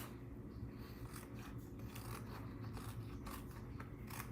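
Scissors snip and rasp through overhanging paper scraps around a holiday card, a faint, close, continuous crisp cutting and rubbing with no voices.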